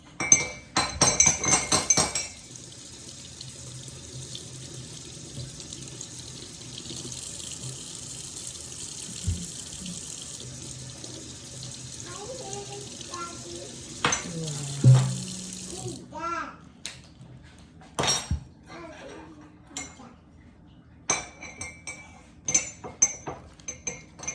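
Cabbage washed under a running kitchen tap, a steady hiss of water for the first stretch, then splashing, dripping and clinks of a bowl and sink as the leaves are handled nearby.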